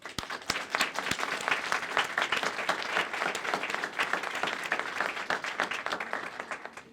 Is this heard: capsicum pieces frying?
no